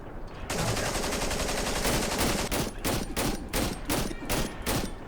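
Rapid automatic rifle fire from an enemy's M16 in the horror game Cry of Fear, a loud, close burst of repeated shots that breaks into sharp, evenly spaced gunshots toward the end.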